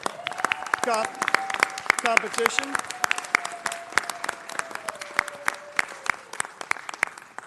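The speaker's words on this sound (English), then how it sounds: "That's Recycle worth a round of applause" Audience applause at a Los Angeles city council meeting, a steady patter of clapping running under a speaking voice throughout.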